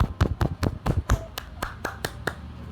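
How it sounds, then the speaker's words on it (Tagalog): A run of about a dozen sharp hand claps, some quick and uneven at first then spaced out, close and fairly loud, with a little talk mixed in. "Palakpak!"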